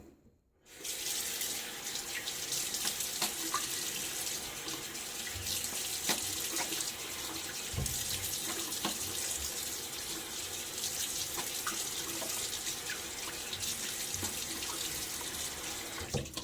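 A bathroom tap runs steadily into a sink while shaving lather is rinsed off a face, a close, loud, constant gush of water with small splashes, no one speaking.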